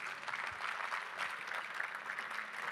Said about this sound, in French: vous pouvez applaudir Pierre